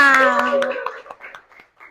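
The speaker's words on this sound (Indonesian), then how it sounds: "Tepuk tangan semuanya." Children in a classroom clap their hands during a teacher-training lesson, a short burst of scattered, close claps that starts under an adult voice and then thins out.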